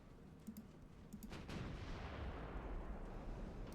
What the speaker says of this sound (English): That was a very unexpected salvo.